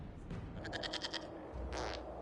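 A goat bleats in the video game Dragon Age Inquisition: a quiet, wavering cry with a short pause and then a briefer second bleat over a low, steady ambient bed.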